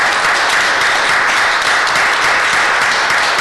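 Steady, dense applause from a crowd at a city Public Safety Committee meeting, loud and continuous with no voices over it.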